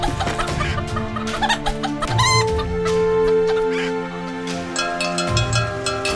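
Chickens cluck in the virtual reality farming game Townsmen VR, with repeated clucks and squawks over layered game music and ambient farm sounds.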